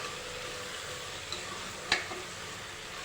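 Mixed vegetables for Surat-style green undhiyu sauté in oil with a soft, even sizzle. A single clink from a utensil against the pan rings out near the middle.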